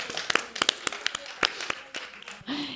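Sparse, scattered clapping from a small audience at a book event with author Manel Loureiro, with a few irregular claps over about three seconds and a brief low murmur near the end.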